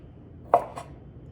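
A kitchen knife cuts through sausage on a cutting board, making two quick, close chops in quick succession against a quiet background.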